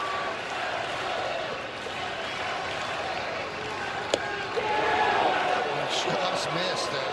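A crowd of about 23,000 at a Yankees–Orioles baseball game gives off a steady, broad roar of stadium noise that holds at an even level, with a single sharp knock partway through and a slight swell near the end.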